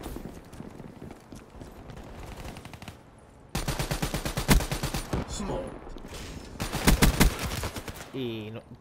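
Bursts of rapid automatic gunfire from the video game Call of Duty: Black Ops III, loud sustained volleys after a quieter stretch, with a player talking over the action.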